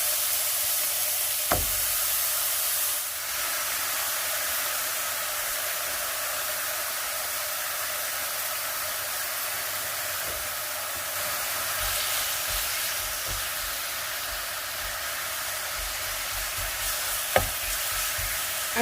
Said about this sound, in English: Okay, so here I have my meat, and I'm going to start cooking this.